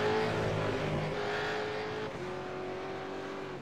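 A race car engine in a racing video game, held in sixth gear, droning steadily at high revs as a loud continuous tone that eases slightly toward the end.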